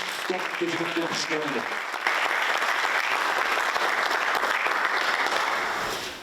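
Audience at an auto body repair federation event applauds as Massimo Ruffa is welcomed on stage; a short spoken introduction gives way to sustained, steady clapping that fades at the end.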